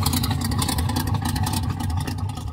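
A Chevrolet Monte Carlo street car built in a 70s theme idles nearby, its engine a loud, steady, rumbling drone with no break and no voices.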